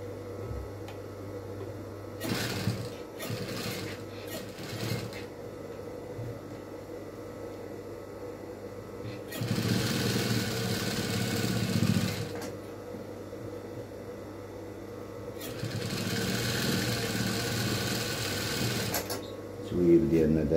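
A sewing machine stitches the lining of a Moroccan caftan in several runs: short rattling bursts at first, then two longer steady whirring stretches, with quiet gaps between and someone talking softly in between.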